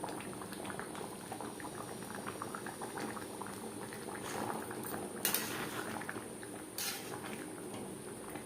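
Thick katla fish gravy with gathi kochu simmering in a pot, a continuous bubbling burble with a couple of brief metallic clinks from a utensil, near and fairly quiet.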